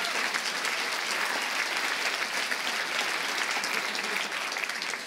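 Dense, continuous applause from a breakfast audience at an equality event, loud and even from start to finish with no break, tapering slightly at the very end.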